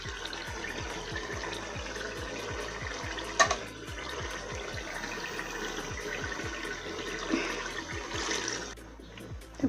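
Leftover mutton stock poured into a pot of browned mutton for biryani, a continuous splashing, gushing liquid sound with sizzling underneath, steady for several seconds and easing off near the end.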